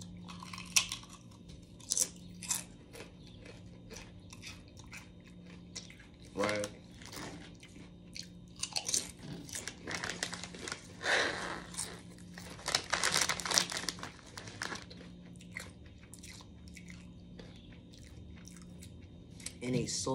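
Honey barbecue potato chips crunch and crinkle in the bag while being chewed close up, with irregular crisp bites and rustling over about twenty seconds and a person talking at times.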